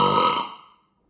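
A single loud, close burp, short and throaty, fading out within a second, follows a sip of Medusa, a Belgian-style quad beer from Copperhead Brewing Co.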